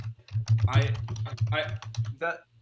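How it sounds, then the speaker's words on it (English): Rapid, dense clatter of typing on a computer keyboard, close and loud, with a steady hum underneath throughout. "Okay, Jens, who's typing?"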